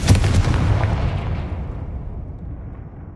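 One loud, close blast from the Confringo spell in the video game Hogwarts Legacy: a sharp burst that rolls into a booming rumble and fades over about three seconds.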